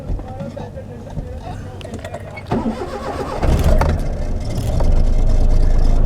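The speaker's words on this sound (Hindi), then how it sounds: "अब गाड़ी भी हमारी हो जाएगी स्टार्ट" A 2019 Suzuki Mehran car engine cranks and catches, its sound stepping up in two stages to a steady running idle, heard close by with a voice talking over the start.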